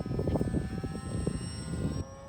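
A small RC model airplane drones steadily with an engine or propeller buzz that holds close and fairly loud, dropping back toward the end, with no voices over it.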